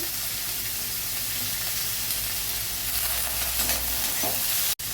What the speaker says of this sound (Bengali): টমেটোটা দিয়ে সবজিগুলো একটু 2 মিনিট ভেজে নিয়ে